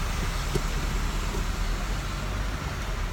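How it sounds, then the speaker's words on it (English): Slow congested road traffic heard from inside a moving car, a steady low rumble of engine and road noise with no talk. "A little bit of traffic congestion."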